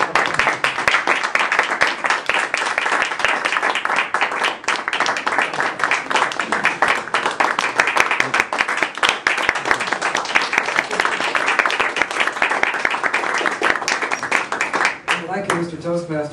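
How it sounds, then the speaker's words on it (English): Sustained audience applause welcoming a Toastmasters club speaker, dense steady clapping from a full room lasting throughout before tapering off at the end. "I really wasn't looking for more applause"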